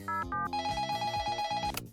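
A telephone line rings with a repeating electronic tone during a call to a Suzuki motorcycle dealership, steady and fairly loud, close on the line with no talking.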